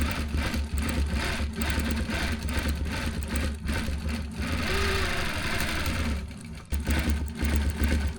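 A Gammill longarm quilting machine stitches zigzag over the seams of a Harley T-shirt quilt, a steady close mechanical whirring hum with rapid needle rhythm running continuously, briefly dipping near the end.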